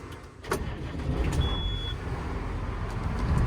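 A John Deere tractor engine cranks and catches after a brief start, then settles into a steady, loud rumbling idle close by.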